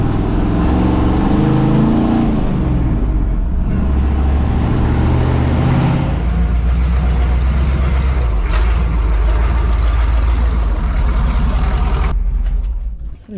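Loud, rumbling exhaust of a Chevy K30 4x4 rollback truck running close by, revving up and settling throughout before cutting off at the end.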